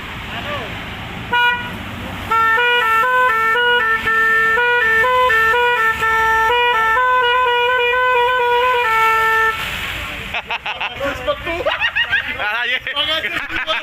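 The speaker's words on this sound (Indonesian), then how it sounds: "Klaksonnya 378 kalah ini." A motorcycle fitted with a bus horn blasts a loud, multi-tone musical melody for several seconds, close up, followed by laughter and chatter from people nearby.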